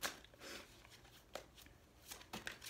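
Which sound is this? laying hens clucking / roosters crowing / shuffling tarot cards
shuffling tarot cards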